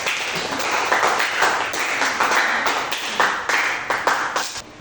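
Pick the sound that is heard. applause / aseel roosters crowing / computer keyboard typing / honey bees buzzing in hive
applause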